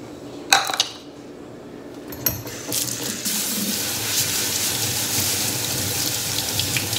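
Water from a tap pours steadily over rice being rinsed in a kitchen sink, starting with a few clinks and taps before the running stream settles in close by and continues to the end.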